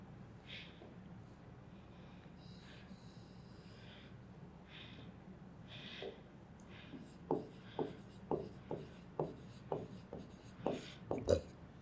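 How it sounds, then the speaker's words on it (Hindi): Pen writing on paper during a class, starting as faint soft scratching under quiet room noise and then turning into a run of distinct rhythmic strokes, close and light. "तो हम वॉवल्स यहाँ लिखेंगे काउंट करके और कॉन्सोनेंट्स को यहाँ लिखेंगे"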